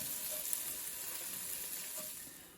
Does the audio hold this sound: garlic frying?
yes